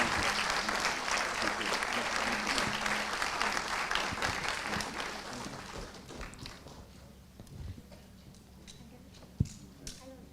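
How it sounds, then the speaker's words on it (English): At a conclave session, an audience claps for Sandeep Rao. The applause starts full and busy, then thins over the second half into scattered claps and a few thuds, with sparse background chatter. "A big round of applause for Mr."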